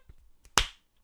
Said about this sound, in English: Oh, a clap.